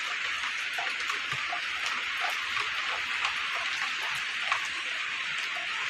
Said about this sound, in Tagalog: Tultul ng ulan guys.